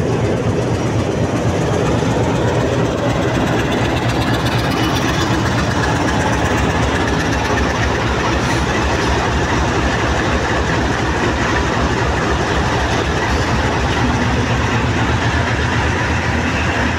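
A coupled Indian Railways diesel locomotive from the Rodding shed, numbered RG 24 5221, idles at Bhakkar station with a steady, loud low rumble that runs continuously throughout without talk.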